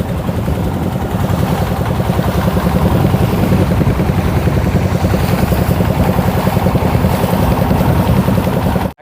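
A motorboat engine on an eight-seat boat near Sada Pathor, Bholaganj, Sylhet, drones loudly and steadily, a close, pulsing roar that holds unbroken until it cuts off abruptly at the end.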